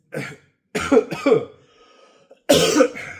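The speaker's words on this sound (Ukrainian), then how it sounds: "ну, капець кашель, не дає мені розказати" A man coughs in several harsh bursts, a pair close together, then a pause before a final loud hacking cough.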